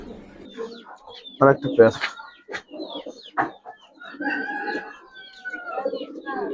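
Jabra Giribaz pigeons cooing in short, soft bursts beneath a man's close, steady talking, the bird sounds mixing in with his speech.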